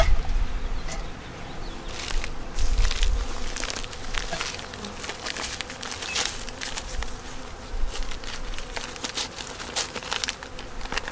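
A swarm of South Carolina honey bees buzzes continuously around an open hive, a dense droning hum dotted with quick close passes and light tapping, no voices.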